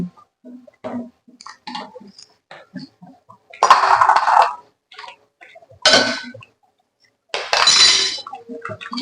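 A spoon stirs red chili and coriander-cumin powder in a metal pot while spinach muthiya is being made, giving scattered clinks and then three louder scraping bursts.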